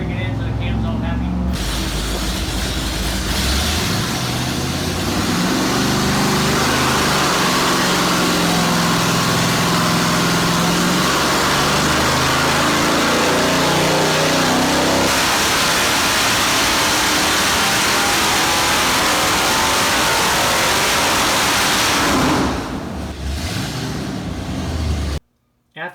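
A 440 engine in an RV runs loud and steady during cam break-in after a Comp Extreme Energy cam install, its RPM and load swept up and down for about twenty-five seconds before cutting off.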